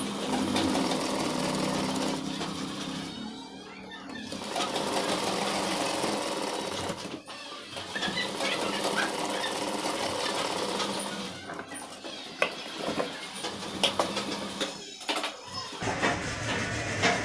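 Sewing machine stitching pleats on trousers, a steady close whirring drone running almost without pause, broken by a couple of brief stops.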